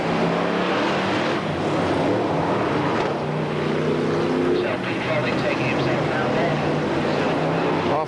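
BriSCA Formula 1 stock cars racing at Sheffield in 1985, a loud, continuous roar of several engines rising and falling together, with a commentator talking over it.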